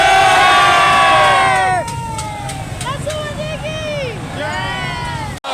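Crowd at a Christmas rally in Peshawar cheering and shouting loudly, with whistles and whoops rising over the din, close and continuous throughout.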